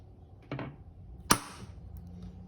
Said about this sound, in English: always center punch your holes first before you drill them